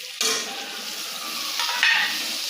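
A ground spice paste hits a hot pan and starts sizzling at once. A steady frying hiss follows, with a second louder flare of crackle near the end and no talk.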